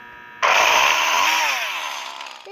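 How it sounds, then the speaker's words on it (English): A chainsaw in the Roblox game Fruit Playground starts abruptly and roars loudly at close range, a high buzzing whine that slowly fades and drops in pitch toward the end. "There's a chainsaw."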